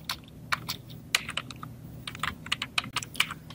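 Someone types on a computer keyboard while making a logo in Photoshop, giving a close, irregular patter of sharp key clicks with short pauses and no voices.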